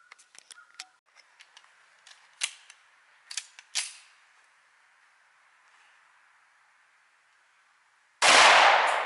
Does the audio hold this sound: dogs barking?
no